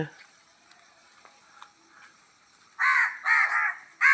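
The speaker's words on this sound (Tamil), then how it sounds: "காக்கா பாருங்கள் எவ்வளோ அழகாக காலையிலேயே வந்து" Crows caw on an early winter morning, a few faint distant calls early on, then three loud, close bursts of harsh cawing near the end.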